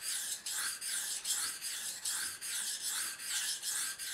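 A knife blade is sharpened freehand on a stone to raise a burr, giving a close, loud raspy scrape repeated in about ten even back-and-forth strokes with brief pauses between them.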